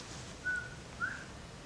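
A northern bobwhite quail gives its two-note whistled call, faint and distant over a soft outdoor hiss.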